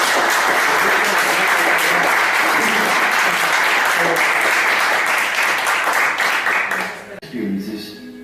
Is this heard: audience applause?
yes